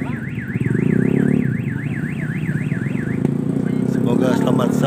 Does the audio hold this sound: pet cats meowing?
no